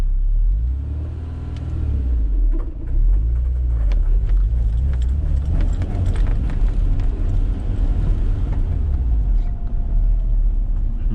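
A Honda S2000 with a manual gearbox is driven from inside the cabin, a loud steady engine rumble with low drone and rising revs throughout, no talk heard.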